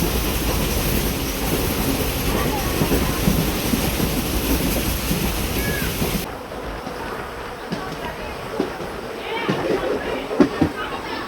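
A Karaikudi–Mayiladuthurai passenger train running, with a continuous rumble and rattle of carriages and wheels, loud at first and then quieter and more distant-sounding partway through, with occasional squeals.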